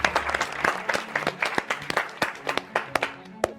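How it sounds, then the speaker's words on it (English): Audience at a university quiz contest giving a round of applause, steady close clapping from a modest crowd lasting a few seconds. "A round of applause, please."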